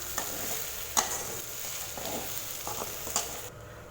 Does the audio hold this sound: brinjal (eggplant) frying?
yes